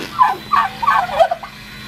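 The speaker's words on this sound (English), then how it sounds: "Turkey noises are the best." Turkeys gobble in a farmyard, several loud warbling calls in quick succession, close by, over a low background hum.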